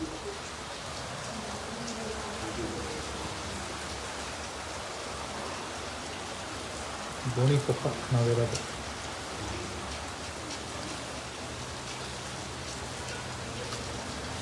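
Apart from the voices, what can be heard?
rain seen from a balcony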